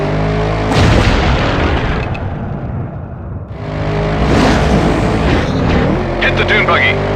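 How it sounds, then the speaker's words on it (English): Explosions and weapons fire in the PS2 game Stuntman: Ignition, loud booming blasts with rumbling engine noise between them, under a voice calling out directions. "Close to the explosion. Pass close to weapons fire."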